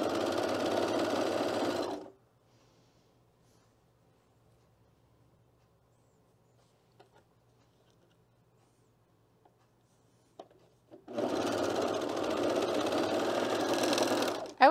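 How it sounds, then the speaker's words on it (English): Sewing machine stitching across the short ends of an interfaced black knit cardigan button band, a steady loud whirring run of about two seconds, a long near-silent pause with faint clicks, then another sustained run. "we're gonna sew across all the short ends"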